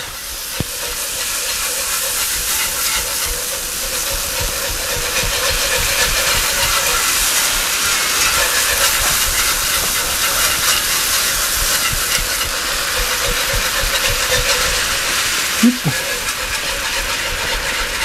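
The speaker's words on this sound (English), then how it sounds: "we're going to gradually whisk in a cup of milk" Milk is gradually whisked into a butter and flour roux in a pan, giving a steady, fairly loud hiss and sizzle that holds for the whole stretch, with a faint scrape or tap near the end and no talking.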